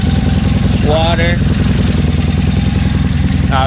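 A 1983 Honda Magna V4 motorcycle idles close by with a steady, rapid low-pitched putter after starting, loud and even throughout, while a voice speaks briefly over it.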